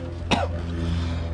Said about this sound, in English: Don't cough. It burns your throat.